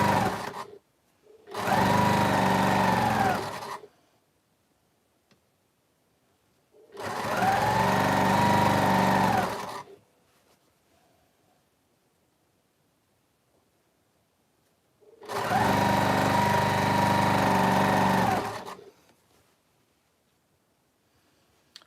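A sewing machine stitches long quilt strips in three bursts of two to three seconds each, separated by near silence. The motor hum is close and loud.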